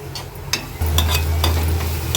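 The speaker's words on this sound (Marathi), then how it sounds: "मीडियम फ्लेमवर हा हळद मसाला कांद्यामध्ये छान शिजवून घ्यायचा आहे" Onion with turmeric masala cooking in a pan over a medium flame, a close, steady sizzle with a few light stirring clicks and taps, no talking.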